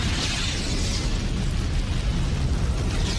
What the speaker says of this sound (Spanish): De pronto explotó.